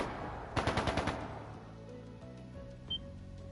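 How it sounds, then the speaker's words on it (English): Burst of rapid gunfire in the Legend of Heroes 2 video game, about six quick sharp shots in a row, followed by quiet ambient game music with a small blip. "That sounded like gunfire."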